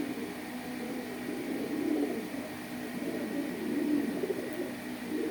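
Low, rolling cooing comes from a pigeon kept in a home loft with local and Pakistani breeds, repeating in a few swelling phrases against a steady droning background. No voices are heard.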